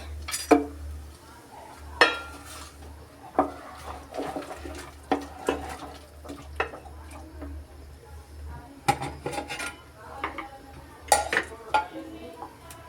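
Food being stirred in a cooking pan in a home kitchen, with irregular close metallic clinks and scrapes of a utensil against the pan and a few sharper knocks spread throughout.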